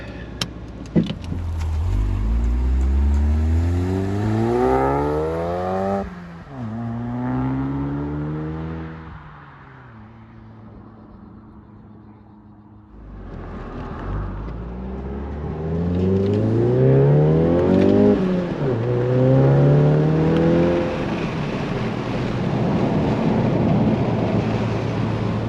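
A car fitted with a Baun Performance exhaust revs and accelerates, rising and falling engine tones sweeping through several throttle blips, fairly loud and close, with a quieter lull midway before revving again; no talking.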